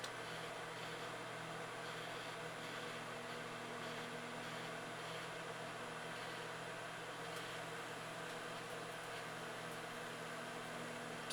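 A running microwave oven hums steadily with a constant bright hiss, as a Rubik's cube heats inside and begins to sizzle, heard close and continuous throughout.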